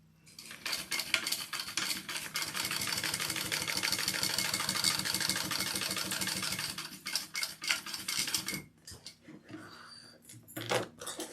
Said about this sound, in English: I'm just going to top stitch that on